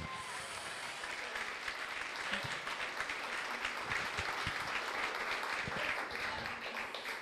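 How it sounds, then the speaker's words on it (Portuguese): A church congregation applauds at a Portuguese-language worship service, a steady wash of clapping lasting throughout, with a voice speaking over it. "Aplauda o Senhor nesta noite."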